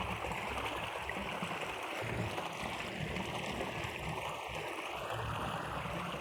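Water flows in a stream near fresh plantings, a soft, steady rushing wash that continues unbroken at low level.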